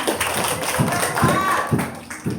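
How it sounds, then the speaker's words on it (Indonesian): Children in a primary school classroom clap their hands in a loose rhythmic pattern of soft repeated beats, heard under a busy room with overlapping chatter. "Tepuk tangan."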